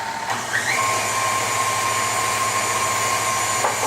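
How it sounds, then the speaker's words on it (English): A KitchenAid stand mixer runs with a medium spiralizer attachment, giving a steady, close motor hum with a faint high whine that holds evenly throughout. "Put it on the KitchenAid spiralizer."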